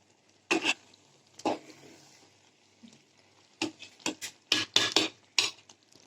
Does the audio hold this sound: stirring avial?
yes